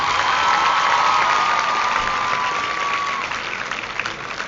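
An audience at a Pakistani bilingual declamation contest breaks into sustained applause, a thick, even wash of many people clapping with faint cheers, loud at first and gradually easing toward the end.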